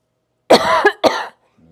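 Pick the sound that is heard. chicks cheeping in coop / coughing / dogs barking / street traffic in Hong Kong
coughing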